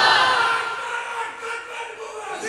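A large crowd at a religious gathering roars a slogan in unison, a loud sustained shout of many voices that swells at the start and then rises and falls in waves.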